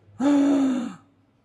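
A voice imitates an agonal gasping breath, the involuntary gasp of someone not breathing properly: one loud, drawn-out, groaning inhalation lasting under a second, close up and alone.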